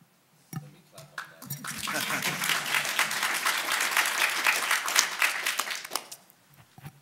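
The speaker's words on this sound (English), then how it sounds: "Let me clap on that." An audience at a science panel discussion applauds in a steady wash of many hands clapping, building after a few early claps and lasting about five seconds before fading.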